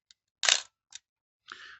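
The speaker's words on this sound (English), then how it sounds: "It's got the usual film wind on the top and it is quite loud" A 1968 Praktica Super TL 35mm SLR's top-mounted film wind lever being advanced, giving sharp mechanical clicks and a longer ratcheting whirr, close and fairly loud in an otherwise silent room.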